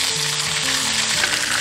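Yellow catfish pan-frying in a clay pot gives off a loud, steady, close sizzle that hisses continuously without pause.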